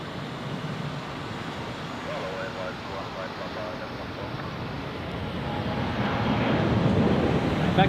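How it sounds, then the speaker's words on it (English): A C-17 parks while an A380 is pushed back from the gate at Zurich airport, giving a steady broad jet-engine roar from an observation deck that swells slightly toward the end. "And as the C-17 was parking, the A380 is being pushed back from the gate."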